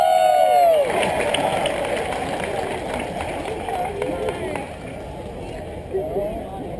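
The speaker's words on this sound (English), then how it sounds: "Let's give him a big round of applause" An outdoor crowd at a pig race roars and cheers in a dense, sustained wash of noise that opens with a brief high whistle-like tone.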